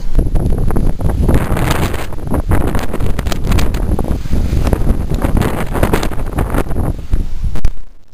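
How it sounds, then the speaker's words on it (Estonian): Strong wind buffets the microphone on a sandy coast at Venus Bay with blowing sand, a loud continuous roar and gusting rumble throughout before dropping off at the very end. "Tuul on räme. Liiva tuiskub kõik."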